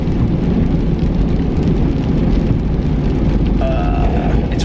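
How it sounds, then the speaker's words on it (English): Steady rain falls outside on a drizzly evening, a loud, dense wash of noise that never lets up, with a faint tonal whine rising briefly near the end. "It's raining out now."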